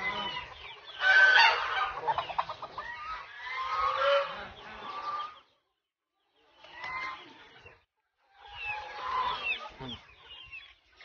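Geese honk on a farm in Ormoc in the Philippine countryside, with chickens nearby. Three loud, close bursts of honking and clucking are separated by short silences.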